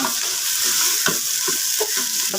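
Rice with salt being stirred in a hot pan for white pulao, a steady close sizzle with repeated scraping strokes of a spoon.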